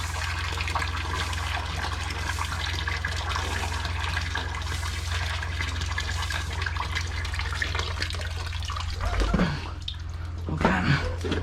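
Water rushes steadily into a clogged sewer drain while a line is worked through the sludge, a constant loud wash with a low rumbling hum beneath, then a brief gurgling surge and a short splash near the end.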